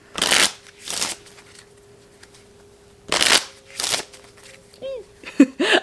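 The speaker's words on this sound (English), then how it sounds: "We will put the 10 of spades back in the deck and shuffle" A deck of playing cards being shuffled in two separate bursts, each a crisp riffle followed by a bridge, close up with brief faint sounds afterward.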